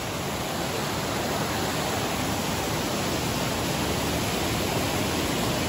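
Waterfall on a forest trail, a dense, unbroken roar of falling water, loud and steady from start to finish with no voices.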